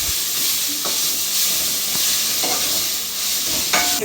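Ginger garlic paste sautés in hot oil for tomato biryani, giving a steady, close sizzle and hiss throughout with a few scraping stirs of a spoon in the pan.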